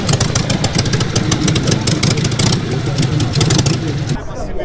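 A Harley-Davidson Sportster 883 Iron with a Termignoni exhaust runs loud and close, its V-twin giving a steady pulsing rumble. The roar stays fairly constant before it drops away abruptly near the end.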